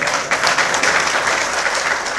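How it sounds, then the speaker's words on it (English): An audience gives a steady round of applause, dense and continuous throughout, fairly loud and close, with no talking over it. "Give me a round of applause lah."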